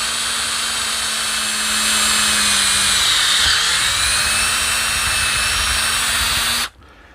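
A power drill bores through a metal plate, with a steady, loud, high whine that rises slightly midway and holds for several seconds before cutting off abruptly near the end.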